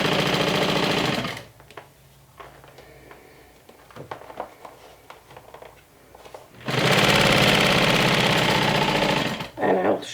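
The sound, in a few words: sewing machine top stitching a crossbody bag seam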